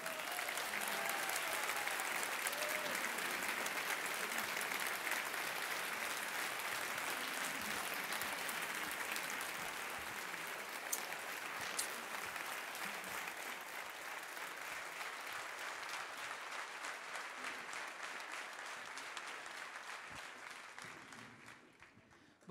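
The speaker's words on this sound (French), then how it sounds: "Je vous demande des tonnerres d'applaudissements pour Zoé Constantopoulou." Long, thunderous burst of audience applause at a political rally for Zoé Konstantopoulou, a dense, steady roar of clapping from a large crowd that holds for about twenty seconds before tapering off at the end.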